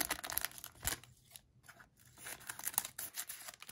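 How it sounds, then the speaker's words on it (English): Scissors snip and slice through a sealed 2020 Topps Gallery trading card box, giving a few close, crisp cutting strokes with faint crinkling of packaging and a short pause between cuts. "Let's get this cut open with the scissors."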